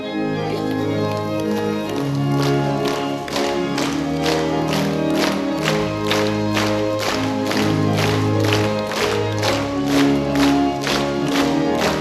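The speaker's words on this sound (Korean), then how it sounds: "427장 우리 다같이 박수 치시면서 찬송하시겠습니다." A church congregation at a 1995 Horeb Mountain prayer meeting claps hands in a steady beat while singing hymn 427, with loud massed voices carrying the melody over the rhythmic clapping.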